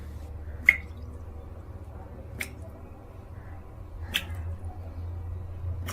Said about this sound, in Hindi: Is it a tap leaking?